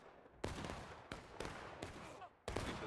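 Musket volleys crack out in War of Rights during an independent-fire exchange at a fence in a historical rules event, Hill's Counterattack map: four or five sharp, loud broadband reports spaced irregularly, each trailing into a rolling echo.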